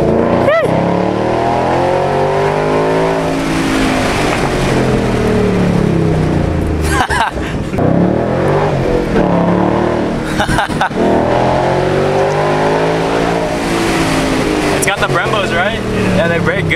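A Shelby Cobra Terminator revs loudly on a dyno in Los Angeles, its engine rising and falling in long sweeps broken by brief gaps, with people talking over the roar.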